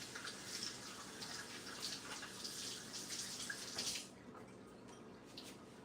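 Tap water runs steadily into a small cup as egg residue is rinsed out during brownie pie baking, a close hissing splash for about four seconds that then cuts off, leaving a quiet room.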